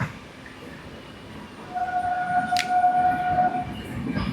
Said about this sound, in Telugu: ట్రైన్ ఇప్పుడు టన్నల్ గుండా వెళ్తుంది